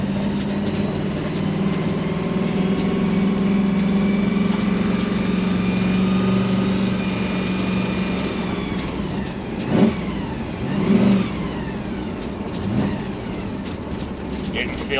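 A car with a TH400 automatic transmission and a TransGo shift kit cruises along, its engine droning steadily from inside the cabin. About two-thirds of the way through, the pitch drops and shifts as the gearbox changes gear.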